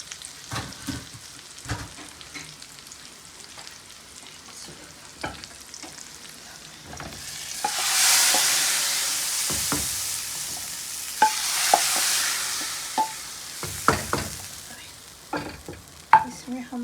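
A hot tempering of coriander, green chili and onion poured into dal, bursting into a loud hissing sizzle that swells twice amid scattered spoon clinks and stirring noises.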